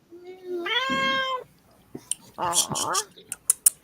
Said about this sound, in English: You'll hear lots of cats.